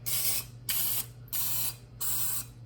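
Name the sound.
cooking spray sprayed into cupcake pan cups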